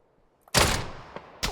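AKM rifle fire in the video game PUBG: a sudden loud burst of several rapid shots after a quiet start, then one lighter shot and a final sharp burst.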